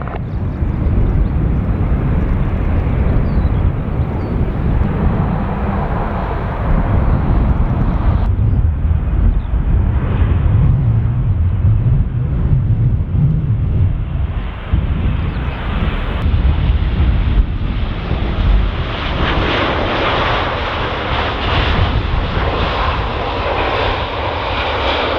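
Fixed-wing airplane on approach at Dublin Airport in summer, a loud, sustained jet engine roar that rises and brightens as the aircraft nears, with some wind noise on the microphone.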